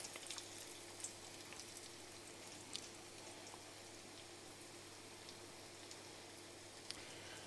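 Crumbed garfish frying in a pan gives a soft, steady sizzle with a few sharp pops, faint and continuous with no voices.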